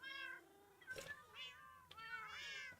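Cats meow repeatedly in the game Minecraft, a series of several clear, fairly close mews with short pauses between them and faint talk in the background.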